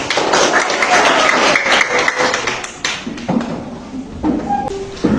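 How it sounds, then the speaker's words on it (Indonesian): A high-school geography class in Kupang claps together, a dense patter of hand claps mixed with a few desk thumps and taps, loud and close, thinning out toward the end. "Tepuk tangan untuk kita"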